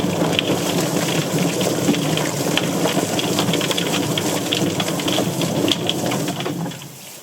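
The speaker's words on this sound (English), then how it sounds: "we have our plucker, we have our chicken, let's turn it on. Spinning round, water on, and it goes." A steady mechanical whir mixed with spraying water, a chicken plucker machine spinning a chicken continuously at close range before easing off at the end.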